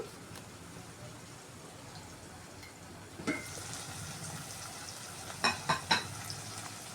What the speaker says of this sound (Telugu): మూత పెట్టేసి కొంచెం మగ్గనిద్దాము